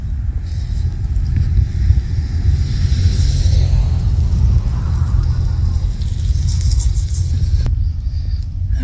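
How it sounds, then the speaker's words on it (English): Steady rumble of cars passing in traffic, a continuous loud wash of engine and tyre noise with wind buffeting the microphone and no clear gaps between vehicles. "There's so many cars."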